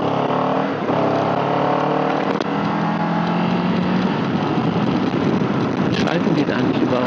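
A Kawasaki Z7 Hybrid motorcycle pulls away and rides off, its engine note rising and shifting beneath steady wind rush, with a rider speaking over it.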